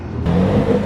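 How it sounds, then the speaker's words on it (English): A Lamborghini Murcielago Roadster V12 revs at a nighttime car meet, with a loud, steady, close engine roar that swells slightly partway through the brief moment. "Very nice Murcielago Roadster V12. Sounding good out here tonight."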